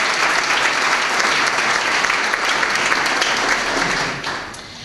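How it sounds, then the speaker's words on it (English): A big crowd at the Kosbe Awards 2009 ceremony gives loud, dense applause for the event businesses, a sustained roar of clapping that fades slightly in the final second. "if y'all give all those businesses a big round of applause"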